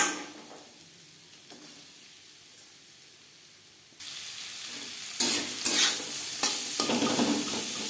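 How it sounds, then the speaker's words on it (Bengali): Chopped onion dropped into hot mustard oil, a faint simmer giving way to a sudden loud hissing sizzle that jumps louder again midway as stirring continues. "তেল গরম হয়ে গেছে, এবার দিয়ে দেব পেঁয়াজ কুচি।"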